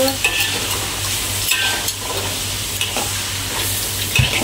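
Ingredients sizzle and crackle as they are stir-fried in a pan for mackerel in spicy soy sauce, with steady close frying noise and occasional utensil scrapes and taps.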